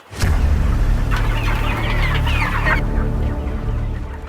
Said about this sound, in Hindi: ये मुर्गियां देख रहे हैं आप?